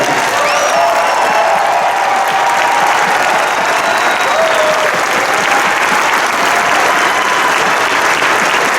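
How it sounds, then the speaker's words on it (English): An audience at a bodybuilding awards ceremony, the Arnold Classic Ohio 2017, gives a long round of applause; loud, dense, unbroken clapping with faint cheers mixed in, sustained for the whole stretch. "So if y'all could please just join me in a round of applause to appreciate these guys here."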